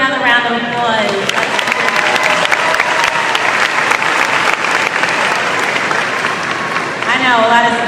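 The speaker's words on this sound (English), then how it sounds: "Give her another round of applause" An audience at a prom claps loudly and continuously, with a few voices briefly audible over the applause near the start and end.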